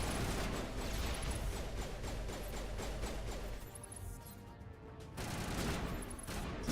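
Rapid gunfire crackles continuously in the video game Mass Effect, dense and loud bursts of shots that briefly thin out near the end before resuming.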